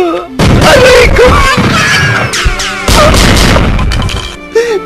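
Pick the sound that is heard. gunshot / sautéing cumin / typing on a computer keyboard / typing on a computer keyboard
gunshot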